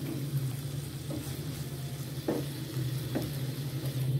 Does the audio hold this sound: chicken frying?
yes